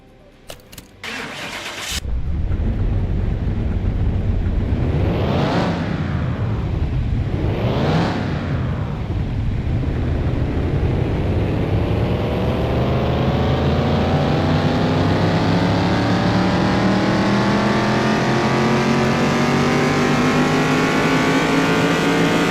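A car engine in Car Mechanic Simulator 2021 cranks and fires, then revs hard twice on the dyno before settling into a long, loud, steadily climbing pull, a build making just under 400 horsepower.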